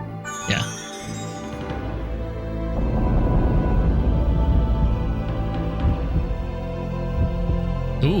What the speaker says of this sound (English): I can hear the heartbeat.